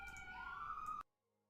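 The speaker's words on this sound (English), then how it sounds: "Apologies for all of the sirens." A wailing emergency vehicle siren rises and sweeps steadily outside for about a second, then cuts off abruptly into near silence.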